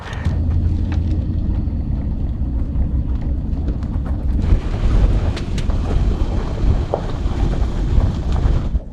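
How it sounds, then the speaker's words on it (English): Strong wind buffets the microphone outdoors beside a truck camper, a loud, constant roaring rumble that surges stronger around the midpoint and keeps going with no talk. "it's actually really windy out here"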